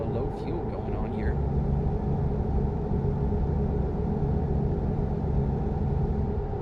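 A Volvo cruising through Europe in a driving simulator game gives a steady low engine drone and road rumble for the whole stretch, with a brief voice near the start.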